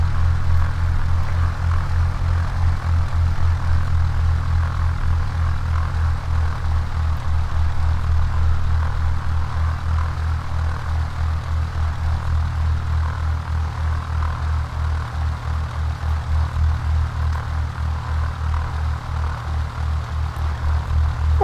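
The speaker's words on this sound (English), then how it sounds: "Clear right, clear left, and we slowly taxi to our holding position." A Cessna 172 single-engine propeller aircraft taxiing slowly toward the runway holding position, its engine and propeller giving a steady, loud, low droning hum that continues without break.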